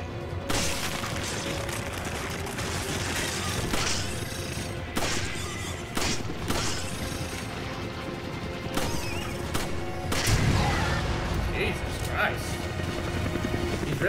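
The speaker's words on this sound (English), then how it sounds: "Shooting that rocket launcher at just like one enemy at a time" Rocket launcher fire in Resident Evil 5, heavy booming blasts and crashes repeating every second or two amid dense combat noise, with voices talking throughout.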